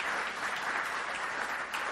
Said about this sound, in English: let's give Nolan a round of applause